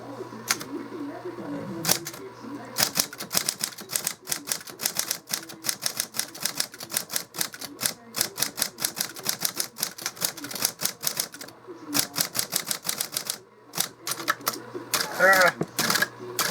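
A 1964 Olivetti Praxis 48 electric-assist typewriter types in close, rapid bursts of sharp key strikes with brief pauses, the dense clatter running nearly throughout.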